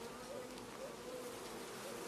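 Honey bees swarm over a hive frame during an autumn inspection of a colony recovering from poisoning, giving a steady, close, continuous buzzing hum with no talk.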